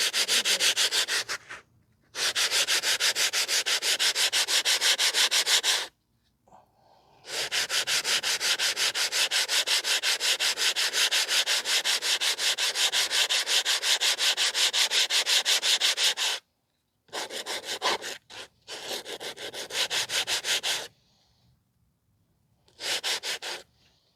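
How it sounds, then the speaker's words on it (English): Brake pads from a 2020 Honda CR-V 1.5 being sanded flat by hand, long steady rasping strokes in several bursts separated by brief pauses, close and alone. "So now we are going to sand down the pads here."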